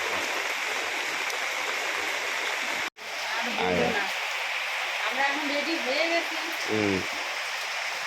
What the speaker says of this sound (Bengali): এরকম বৃষ্টি পড়ছে